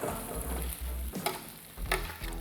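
Chopped liver pieces go into a hot frying pan and sizzle with a continuous hiss, broken by a couple of sharper spits and crackles as the pan is stirred.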